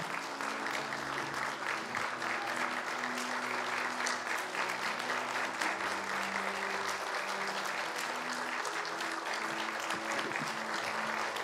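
A church congregation gives sustained, even applause at a Sunday joint fellowship worship service, steady and fairly distant throughout, with faint voices underneath.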